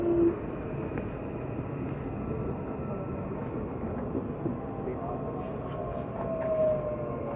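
A CPTM series H541 commuter train sounds its door-closing signal and pulls away from the platform, a steady loud rumble with faint tonal whines over it throughout.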